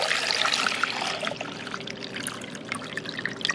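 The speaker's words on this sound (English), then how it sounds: "And I'm going to dump the water in." Water poured from a carafe into the reservoir of a Mr Coffee 5-cup mini brew programmable coffeemaker, a steady close splashing trickle running throughout with no talking.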